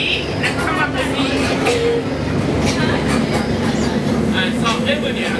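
A subway train running, with a steady loud rumble and faint clickety-clack from the rails filling the whole stretch and a few indistinct voices underneath.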